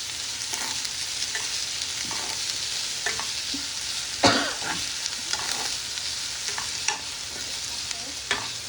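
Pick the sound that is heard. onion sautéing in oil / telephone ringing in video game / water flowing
onion sautéing in oil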